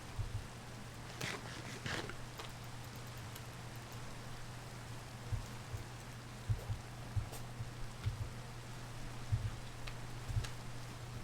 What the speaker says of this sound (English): I'm getting lucky with this rain.